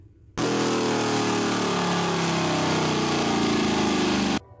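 A turbocharged car engine roars at a loud, steady high rev that starts abruptly, holds for about four seconds and then cuts off, up close with no talking.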